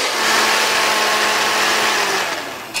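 A blender runs steadily on hot soup under a folded cloth held down by hand, a continuous close whirring motor drone that eases off near the end with a brief clatter.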